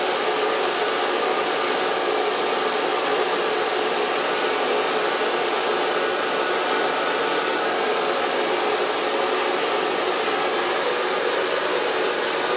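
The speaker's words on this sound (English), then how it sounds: "And then I'm going to blow dry this with a medium brush" A hair dryer blow-drying hair with a medium round brush, a loud, continuous whine that stays steady and unbroken throughout, with no talking.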